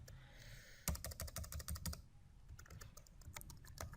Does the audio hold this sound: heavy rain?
no